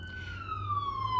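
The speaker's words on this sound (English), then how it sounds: "an ambulance just went by." An ambulance siren wails as the vehicle passes by, its tone sliding steadily lower. The siren is moderately distant and sounds over a low, constant hum.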